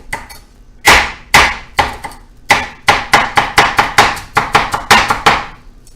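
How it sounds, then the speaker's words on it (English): Knife dicing on a cutting board for mussel mac and cheese, a run of about fifteen sharp, close chops, spaced out at first and then settling into a quick, steady rhythm. "let's do a little dicing with this."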